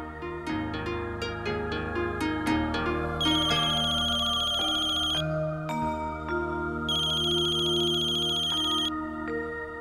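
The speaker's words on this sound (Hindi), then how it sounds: "किसका फोन है" A melodic electronic phone ringtone plays steadily for several seconds, bright repeating tones with no voices.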